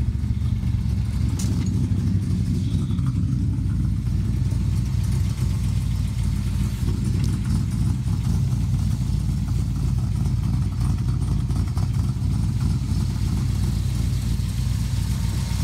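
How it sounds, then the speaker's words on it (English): A totally rebuilt Ford 7-litre FE engine runs steadily, a continuous low rumbling idle heard up close for the whole stretch without any talking. "A Ford 7-liter, totally rebuilt."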